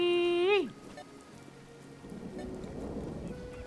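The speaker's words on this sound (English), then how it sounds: "Oh, it's all stormy." Steady rain patters through a storm in the video game A Hat in Time, a soft, even hiss that swells slightly after a brief rising electronic tone at the start.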